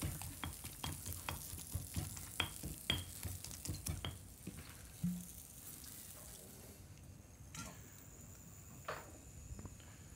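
Breadcrumbs fry in garlic oil in a professional kitchen, a faint soft sizzle punctuated by quick clicks and light utensil taps that thin out toward the end, with no talking.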